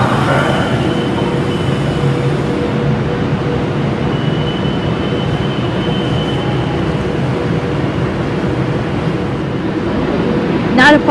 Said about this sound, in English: we have a Virgin Trains Class 390 Pendolino with the 1350 Virgin Train service to Manchester Piccadilly.